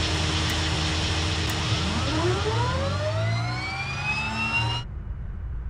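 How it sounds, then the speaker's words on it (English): A de Havilland Twin Otter's right turboprop engine spooling up in Flight Simulator 2020. A whine rises steadily in pitch over a continuous rumble, then cuts off abruptly near the end, leaving only low background drone. "let's see if we can start up the right engine too."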